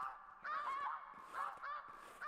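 Honking waterfowl calls in the hunting game theHunter Classic, set in the Whiterime area; several loud, nasal bursts come in close succession and repeat at about one-second intervals, with no other sound between them.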